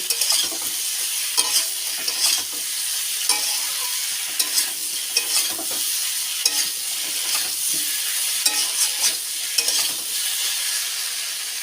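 Mixed winter vegetables sauté with cumin paste in a pan, a steady close sizzle broken by repeated scraping stirs, with no voices.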